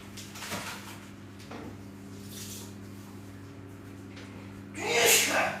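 Over a low steady hum, a sudden loud sneeze bursts out near the end after some quieter rustling.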